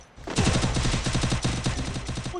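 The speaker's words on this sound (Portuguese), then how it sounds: "Um tiro, Rudô." A rapid burst of automatic gunfire in the video game Free Fire rattles off in quick, evenly spaced shots, loud and sustained for about two seconds with no talking.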